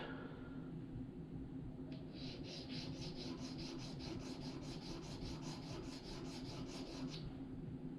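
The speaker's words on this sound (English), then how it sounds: "rub. Not a lot of pressure. It's a very fine stone" A very fine sharpening stone is rubbed with light pressure in a series of soft, even back-and-forth strokes over a steady low background hum. No one speaks.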